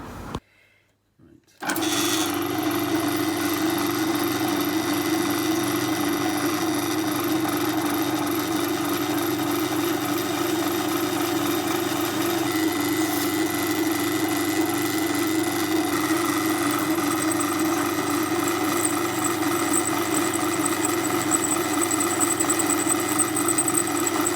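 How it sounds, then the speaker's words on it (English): After a brief quiet start, a power drill with a smaller bit whirs steadily and loudly into a tensioner bolt, its motor hum holding constant with a slight change in pitch midway. "start going in with the smaller drill bit"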